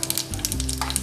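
Mustard seeds hit hot desi ghee and oil for khaman dhokla tempering, giving a short, close burst of crackling sizzle with quick sharp pops over a steady frying hiss.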